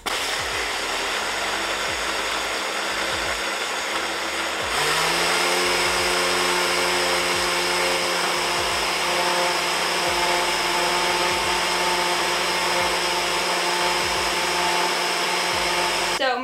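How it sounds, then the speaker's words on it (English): A blender roars continuously at high speed, loud and close, its motor pitch shifting as it grinds dry oats into flour. "So there's oats in my blender now"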